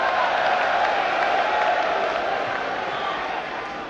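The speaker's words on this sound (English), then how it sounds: "I do not think it deserves clapping" An audience at a Quran-versus-Bible debate gives sustained, dense applause, a steady wash of clapping that eases slightly toward the end.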